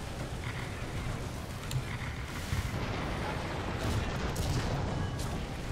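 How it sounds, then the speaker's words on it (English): Artillery fire in War Thunder during a tank battle involving a KV-2, a steady loud rumble of distant blasts and booms rolling together across the whole stretch without pause. "Incoming artillery."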